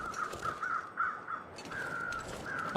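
Crows cawing in The Long Dark video game as birds circle a corpse, a series of harsh repeated caws, moderately loud, with a steady wind-like hiss beneath and no talk.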